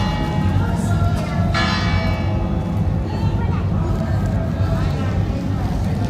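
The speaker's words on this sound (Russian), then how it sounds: "Ну и колокольный звон, да, не помешает." Church bells ring out over a loud, busy outdoor crowd in a town on the Camino de Santiago in Spain, their tones blending into steady babble and street noise.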